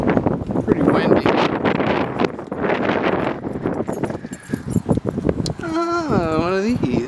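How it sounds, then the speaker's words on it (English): Wind gusting steadily at the Panorama Point Vista House scenic overlook, a loud broadband rush buffeting the microphone throughout, with people talking over it. "Pretty windy."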